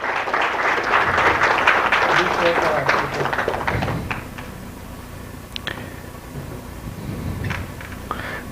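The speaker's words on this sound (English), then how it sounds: "A huge round of applause." Applause from a conference audience at a health care and pharma summit, loud and dense at first, then thinning into scattered claps while a voice talks over it.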